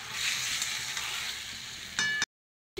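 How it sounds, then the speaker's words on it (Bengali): Potatoes with cumin, dried chilli and spices sautéing in a hot pan, a steady close sizzle with brief stirring scrapes near the end before sound cuts out. "আলুটা দিয়ে দিলাম, দিয়ে একটু মশলাটা কষিয়ে নেব"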